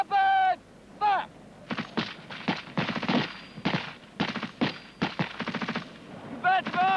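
Rapid rifle and gun-group fire in a section fire-and-manoeuvre drill, loud sharp bursts and single shots in quick irregular succession, with shouted commands breaking in between.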